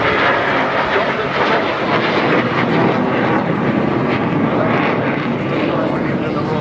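A Hawker Hunter jet roars past at the 2011 Clacton airshow, a loud, continuous broadband rush that barely varies across the whole stretch, with commentary talk likely buried beneath it.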